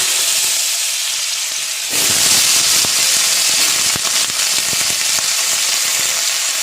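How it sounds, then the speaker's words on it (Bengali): Cut potatoes hit hot mustard oil and burst into a loud, crackling sizzle that jumps up suddenly and then keeps frying steadily and close by. "তেল গরম হয়ে গেছে, দেখুন সামান্য একটু লবণ দিয়ে কেটে রাখা আলুটা আমি দিয়ে দেব"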